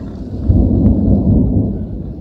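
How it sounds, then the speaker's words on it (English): Low, steady rumble of thunder from an approaching thunderstorm, a broad loud roll lasting a couple of seconds with no voices over it. "thunderstorm just coming our way, about to plow us"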